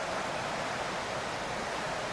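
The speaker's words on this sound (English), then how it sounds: "Excuse the rain. I live in Victoria. It rains all the bloody time." Steady broadband rain hiss in Victoria, falling continuously and evenly around a Subaru Brumby parked outdoors, with no talk.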